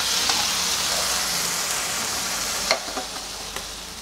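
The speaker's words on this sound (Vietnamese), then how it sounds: "Mình xào nấm." Mushrooms stir-frying in a pan with chopped cooked onion, a steady close sizzle running throughout, with a few sharper clinks and scrapes of stirring near the end.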